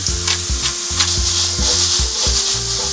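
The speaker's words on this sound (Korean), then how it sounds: "처음엔 센 불로 볶다가 양파가 투명해지기 시작하면은 약간 중불로 줄여서" Garlic, onion and peperoncino fry loudly in olive oil in a preheated pan, a steady close sizzle broken by a few rhythmic scraping stirs, with no voices.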